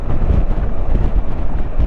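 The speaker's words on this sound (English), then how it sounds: "And it is pretty windy." Steady, loud wind buffeting a microphone during a city motorcycle ride, a continuous low rumble with gusty fluctuations throughout and no talking.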